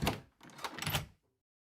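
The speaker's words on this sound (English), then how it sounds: "I make my way downstairs when I unlock the multiple locks on the doors." Door locks being undone and a door pulled open indoors, a couple of close clicks and thunks followed by a longer scraping swing, moderately loud, then quiet.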